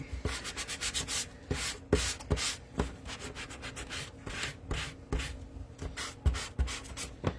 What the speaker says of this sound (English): I'm going to take a sanding block, just a cheap sanding block from the dollar store